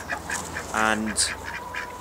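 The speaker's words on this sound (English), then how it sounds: "Then in September last year we got the ducks. You might be able to hear them behind me" Domestic ducks by a small garden pond give one brief quack close by, with a person talking over and around it.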